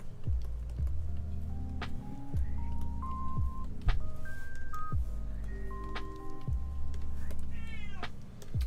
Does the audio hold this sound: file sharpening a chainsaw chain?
no